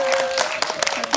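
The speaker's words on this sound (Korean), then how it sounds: "여기 박수 부탁드리겠습니다." An audience at the Bucheon International Film Festival, during a guest visit for the film Big Family, gives a short, steady round of applause, close and continuous, with a faint voice and a steady tone underneath.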